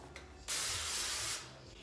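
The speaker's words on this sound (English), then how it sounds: "we are just going to spray our pan with some avocado oil" A single continuous aerosol spray of avocado oil into a foil pan hisses loudly for about a second, close up, with quiet room tone before and after.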